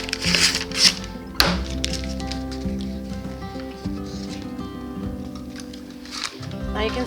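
A tube of refrigerated crescent roll dough is opened in a home kitchen, with a sharp pop and a few soft taps and thunks while a voice talks in the background.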